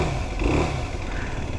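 A sports bike engine fitted in an enduro motorcycle revs high and steadily, a loud, close, buzzing drone like a feisty little off-roader.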